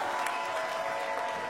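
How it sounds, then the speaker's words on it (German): A crowd at a live darts event applauds in a dense, steady wash of clapping, heard briefly at a moderate distance with a faint tonal hum underneath. "Gib mir mal richtig ordentlich Applaus für Adi und Johnny!"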